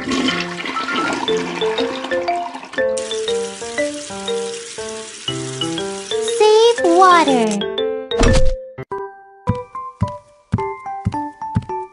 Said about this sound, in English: Flush the toilet after using it.